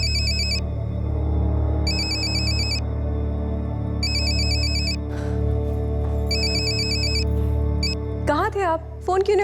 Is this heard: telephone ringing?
yes